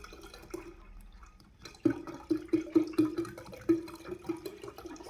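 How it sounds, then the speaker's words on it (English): A whole jug of ginger ale glugs into a punch bowl in a rhythmic series of about eight close gurgling pours, over a faint background hiss with no talking. "I'll just add the jug of ginger ale."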